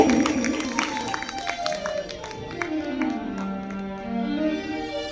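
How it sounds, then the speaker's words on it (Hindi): Applause rises from the audience at a devotional Hindi gathering, a brief burst of clapping at the start that fades under sustained musical tones. "इन भाइयों को बहुत बहुत इनका धन्यवाद ताली बजा कर दो"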